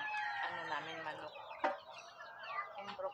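Several chickens with colds cluck and chatter close by, with sharp bursts now and then over a steady farmyard murmur.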